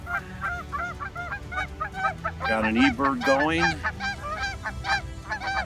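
Several geese honk loudly and repeatedly close by on a pond in the Silvies floodplain, their calls overlapping, while someone speaks briefly over them.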